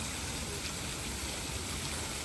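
Water of the Matthias Fountain, a steady, faint rushing splash with an even wash of sound throughout and no talk.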